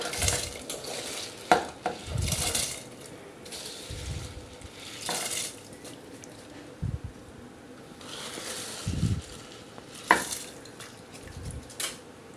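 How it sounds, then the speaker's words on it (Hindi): Rice is poured into a pot of simmering mutton stock for Kabuli pulao, then stirred, producing intermittent scraping and clattering strokes over a low bubbling simmer. "अब इसमें चावल डालते हैं।"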